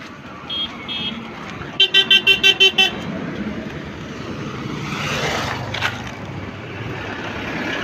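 A car passes near a bridge at Radhanagar and sounds a quick burst of several short horn toots, followed by a softer swelling pass of road traffic; faint background voices.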